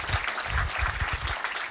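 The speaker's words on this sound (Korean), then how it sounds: "여러분 박수 좀 주세요." A small audience at an indoor concert applauds in a cramped venue, a short burst of many hands clapping at moderate loudness, with a few low thumps under it.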